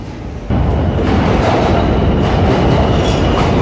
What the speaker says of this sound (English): Now this is a C train also.